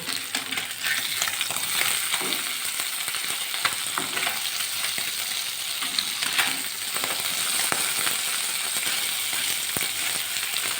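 Fish fries after being flipped in a pan of hot oil, producing a dense, unbroken, loud sizzle with scattered crackles and a faint clink or two, heard up close without voices.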